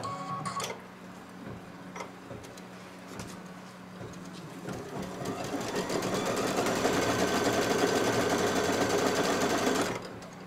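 An embroidery machine stitching on fabric in a quilting setup: a few quiet clicks first, then a rapid, even mechanical whirring with rhythmic needle ticking that builds and holds close by before stopping abruptly.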